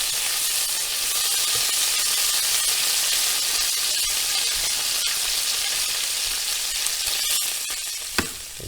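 Bacon frying in a pan for a sandwich gives off a loud, steady, close sizzle with a dense hiss throughout and a single small pop near the end; no voices.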